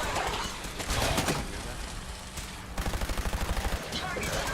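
Rapid gunfire from a weapon in Fallout 4: loud dense bursts early, then a fast, evenly spaced string of about twenty shots in quick succession, with background game sounds between volleys.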